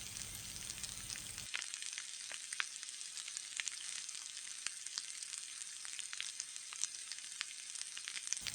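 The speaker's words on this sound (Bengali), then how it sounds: "তেল গরম হলে আলুগুলো তেলে ছেড়ে দিব" Potato strips for French fries deep frying in hot oil over a medium flame, a steady dense sizzle with scattered crackles and pops running throughout, fairly quiet and with no voices.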